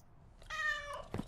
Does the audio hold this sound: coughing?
no